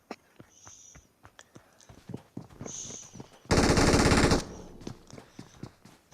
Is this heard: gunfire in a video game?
yes